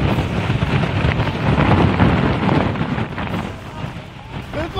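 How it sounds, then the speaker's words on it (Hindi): Strong winds of Cyclone Biparjoy roar across the Gujarat coast where the storm made landfall, a dense, continuous rush that buffets the microphone close up and swells and eases over a few seconds. "यहाँ पर तेज हवाएं जिस तरीके से चल रही है"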